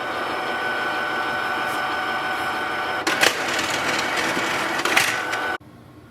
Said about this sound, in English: So printer will activate the ink cartridges